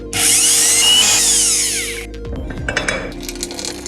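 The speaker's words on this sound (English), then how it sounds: "Now you're ready to drill the holes to mount it." A power drill boring mounting holes for an under-counter safe plate whines loudly and steadily for about two seconds, then winds down into clinks and handling noises.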